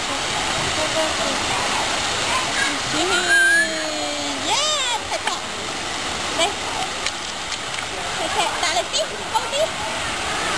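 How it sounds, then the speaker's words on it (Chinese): Swimmers splash in an outdoor hotel pool in Bangkok, a steady broadband wash of water with a few louder slaps, while adults and someone talk and call out over it. "好水花嘅。"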